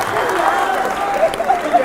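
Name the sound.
audience applause at political rally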